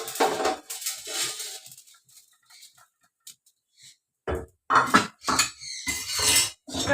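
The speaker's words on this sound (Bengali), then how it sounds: "কড়া বসিয়ে দিলাম" A metal wok set down on a home stovetop while making a potato and eggplant curry, giving a few sharp clanks and scrapes of cookware after a quiet stretch, close and fairly loud.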